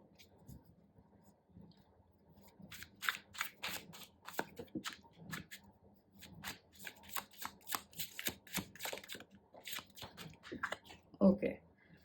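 Chrysalis Tarot cards being shuffled by hand in repeated riffling bursts, close and fairly quiet, with brief pauses between rounds and a soft voice speaking now and then.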